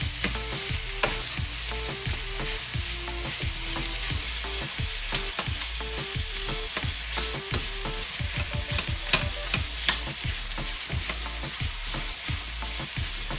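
Beef and onions frying together in a hot pan, a steady sizzle broken by repeated scraping clicks and knocks as a utensil stirs them back and forth, close and continuous with no talk.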